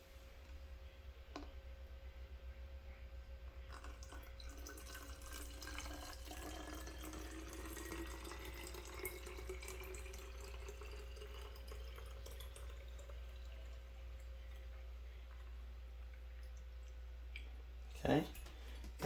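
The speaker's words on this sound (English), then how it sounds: "I'm going to pour this inside my bottle" Rice water pours into a bottle, a faint liquid trickle whose tone rises steadily as the bottle fills, heard quietly over a low background hum with a few small clicks.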